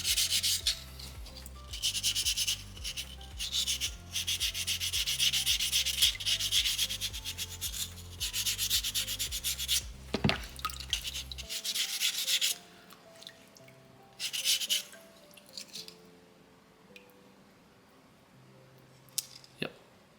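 Soapstone owl carving rubbed with sandpaper in close, rhythmic strokes, each scrape loud and raspy, stopping partway through before a few scattered rubs return.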